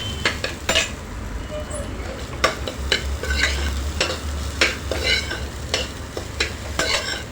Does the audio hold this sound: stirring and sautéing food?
yes